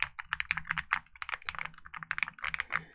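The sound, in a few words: typing on a computer keyboard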